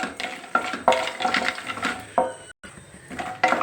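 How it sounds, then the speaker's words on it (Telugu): Almonds stirred in hot ghee in a pan make a clatter of nuts against metal with scraping and sizzling, in irregular bursts close by and without talk. "బాదం ఒక నిమిషం వేగింది."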